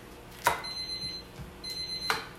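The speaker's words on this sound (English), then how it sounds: "That's my chicken timer." A chicken-shaped kitchen timer rings out in two short, bright bursts about a second and a half apart, each with a sustained metallic tone, heard close up in a quiet kitchen.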